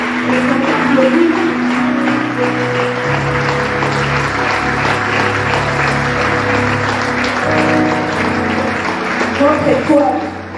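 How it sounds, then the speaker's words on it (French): An audience applauds steadily at a farewell ceremony, the clapping loud and continuous over sustained music with tonal lines, and voices are briefly audible amid the crowd. "Est-ce qu'on peut applaudir pour Tania?"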